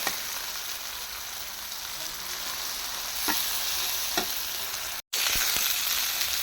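Shrimp fry in oil in a pan with a steady, loud broadband sizzle and a few soft stirring clicks, cut by a brief gap near the end before the sizzling resumes.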